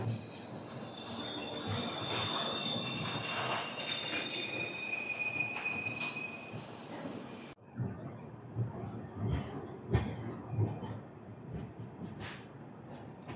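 A train pulls out of Renigunta station, its wheels squealing in sustained high-pitched whines over steady rumbling, then shifting to rhythmic clanks and bumps of railcars rolling over track joints.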